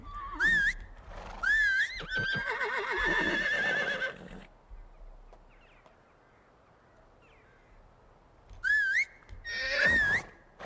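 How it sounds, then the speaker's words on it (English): Horse in the medieval farming game Medieval Dynasty whinnies loudly in several shrill, wavering neighs, with a quiet stretch of snorting and hoof sounds between, close by. "Come here, horsey."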